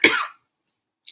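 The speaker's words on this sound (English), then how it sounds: "Why am I coughing?" A single short burst of coughing from a person close by, loud and harsh for about a third of a second, then silence with a faint breathy tail at the end.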